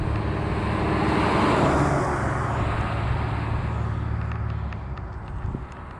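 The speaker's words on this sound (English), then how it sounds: "we got another car coming down that way." A car drives past on a road, its tire and engine roar swelling loudly close by then fading away into quieter background noise.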